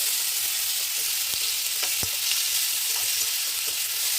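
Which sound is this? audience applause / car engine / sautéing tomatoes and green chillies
sautéing tomatoes and green chillies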